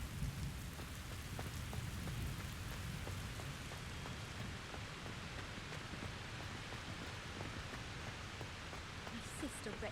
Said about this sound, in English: He's got a rain cloud over him.